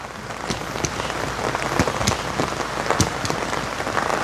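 Heavy rain drums on a surface close by, a dense, steady patter of drops with sharper splashes scattered throughout.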